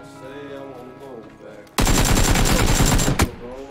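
Rapid automatic gunfire from PUBG, a dense loud burst lasting about a second and a half, aimed at a bike's rear tire, following a stretch of talking.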